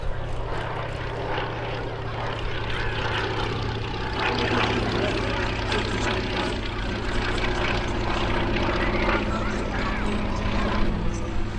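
Fairey Swordfish WWII biplane flying at the Midlands Air Festival 2026, its propeller engine a loud, steady, sustained drone that fills the air without letup.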